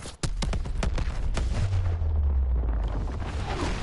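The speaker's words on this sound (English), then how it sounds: "we can't get near those surface explosions" Loud explosions in a military shooter video game, a rapid series of sharp blasts at the start followed by a long deep rumbling boom that rolls on to the end, with no talk.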